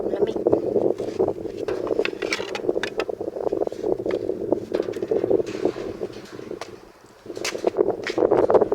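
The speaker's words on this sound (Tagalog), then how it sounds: "Malakas ang hangin dito." Strong wind blowing outdoors, a loud continuous rushing buffet with gusty surges and a brief lull, while a person talks over it.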